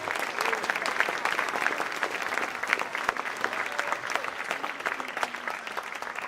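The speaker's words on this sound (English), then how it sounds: "let's give everybody one more big round of applause" Sustained applause from a large crowd at a school spring athletic awards ceremony, dense and steady clapping filling the room for several seconds with faint voices mixed in.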